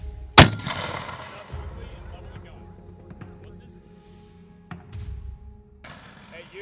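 An M2A1 .50-caliber machine gun fires during a US Marines test, a sharp heavy blast near the start followed by a long fading echo, then a second softer report and some shuffling outdoors.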